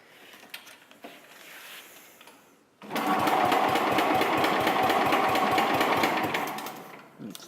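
A 1966 Sears Suburban 10 garden tractor engine cranks and fires after a quiet pause, then settles into a loud, steady, rapid putter that runs for several seconds before easing off near the end.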